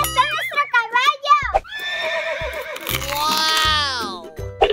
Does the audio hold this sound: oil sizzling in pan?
no